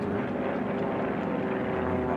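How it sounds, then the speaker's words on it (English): A Formula 1 class racing airplane passes the home pylon during a Heat 2B air race, its engine a steady, loud, continuous drone with no talking heard. "Never easy is what he calls that airplane as he comes across the line here at the home pylon."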